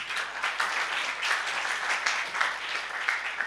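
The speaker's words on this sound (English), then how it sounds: "give him a clap" Steady audience applause at a career fair session, a dense, even wash of clapping from a roomful of people with no voices over it.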